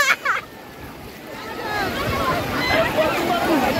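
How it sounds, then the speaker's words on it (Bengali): Sea waves break and wash in on the beach at Puri, a steady rushing surf mixed with wind noise, with voices talking faintly in the background. "ও ঢেউগুলো আসছে দেখো কত সুন্দর"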